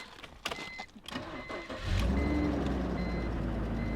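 A car engine with 155,700 miles and a small radiator leak cranks briefly with some clicks and rattles, then starts up and keeps running at a steady idle, close by.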